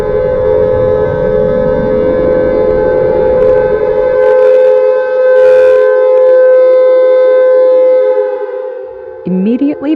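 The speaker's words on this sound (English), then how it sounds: "air raid sirens activated across all 50 states." An air raid siren blares in a long, loud, sustained wail with rich overtones, its pitch holding steady before cutting off, then a brief different tone enters at the end.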